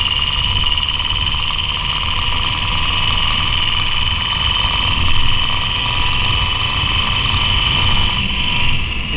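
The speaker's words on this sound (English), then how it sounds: "Sounds like a diesel engine." A BMW M5 F10 engine idles, picked up by a microphone fixed to the engine mount, giving a steady, dense mechanical drone with a strong whine layered over it and no voices.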